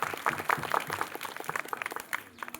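A school quiz audience gives a group round of applause, many hands clapping in a lively, uneven burst that sounds fairly close and gradually thins out toward the end.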